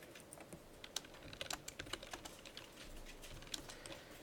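Quiet computer keyboard typing: soft, irregular key taps at close range over a low room hum, bunching into a brief flurry in the middle.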